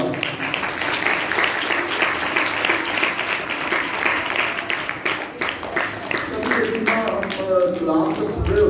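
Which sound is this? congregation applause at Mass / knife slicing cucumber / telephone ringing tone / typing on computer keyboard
congregation applause at Mass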